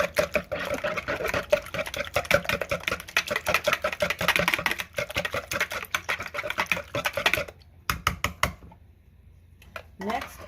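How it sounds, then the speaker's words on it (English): Ingredients for a vegetable quiche are whisked briskly in a bowl, a fast, steady stream of light clicking taps that runs for several seconds, pauses briefly, then resumes, with a voice speaking over it. "I'm gonna whisk those out"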